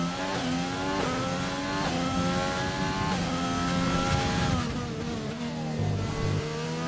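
In a racing video game, a race car engine revs hard and steadily, rising and falling through gear changes as the car pushes through corners and up a hill, loud and continuous with no talk.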